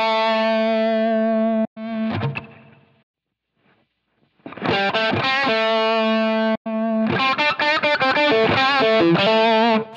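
An electric guitar plays through a heavily compressed, distorted Line 6 Helix preset. Loud sustained chords are cut off, a brief pause follows, then choppy, evenly squashed strumming starts up.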